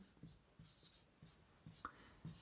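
Faint, scratchy writing strokes on a board during a trigonometry lesson, short irregular marks repeating in quick succession in a quiet room.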